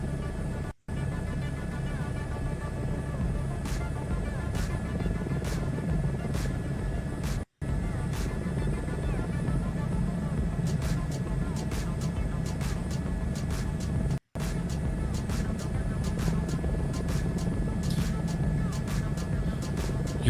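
A helicopter in Microsoft Flight Simulator 2024 flies at speed with a steady, continuous rotor and engine drone. Faint periodic clicks sit on top, and the sound cuts out briefly three times.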